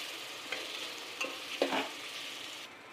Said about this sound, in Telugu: ఇప్పుడు ఆనియన్స్ వేగాయి కదా, ఇప్పుడు పేస్ట్ వేద్దాము.